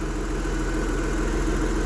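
A Chrysler Stratus with a 2.5 V6 Mitsubishi engine runs at a steady idle, a loud, even, continuous hum heard up close with no talking.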